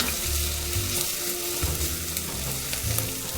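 Garlic frying in a pan with onions already browning, a dense, continuous close-up sizzle and crackle with a few light stirring sounds, no voices.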